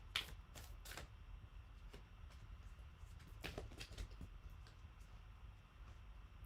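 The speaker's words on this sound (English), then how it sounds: "So I'm just going to shuffle for a moment longer here for you." A deck of tarot cards is shuffled, with faint soft riffles and sparse light card taps close by over a quiet background.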